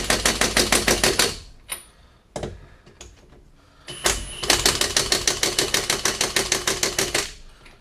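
An impact wrench hammers lug nuts on a lifted Shred Sled SC300 with a torque extension, fast loud rattling bursts at the start and again at length after a pause with some clunks of handling, close up and with no talking.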